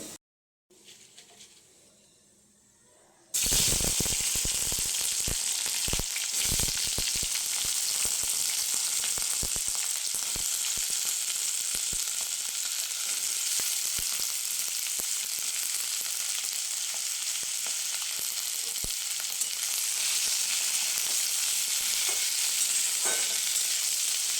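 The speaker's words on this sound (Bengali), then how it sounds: "কালো জিরে শুকনো লঙ্কা আমি ফোড়ন দিয়ে দিলাম।" Black cumin seeds and dried chillies crackle and sizzle in hot oil, a sudden burst of loud frying after a quiet start, then a steady hiss with sharp spitting pops, close by.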